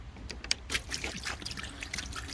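Water poured into a Mitsubishi Warrior pickup truck: faint, uneven trickling and splashing with a few brief clicks and knocks, quiet and close, continuing without talk.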